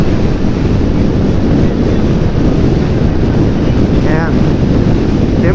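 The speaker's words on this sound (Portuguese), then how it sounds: "E o barulho do vento tá ensurdecedor, tá bem alto," Loud wind roars over a car travelling at about 130 km/h on Argentina's Ruta 40 between Gobernador Costa and Gobernador Gregores. The noise is close and broad, with a steady rushing buffet that never lets up.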